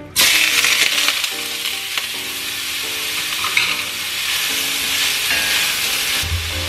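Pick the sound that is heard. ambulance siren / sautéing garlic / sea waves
sautéing garlic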